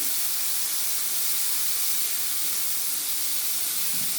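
Chopped tomatoes hit hot white cooking oil for a tomato chutney, giving a loud, steady, broadband sizzle that hisses evenly throughout without pause.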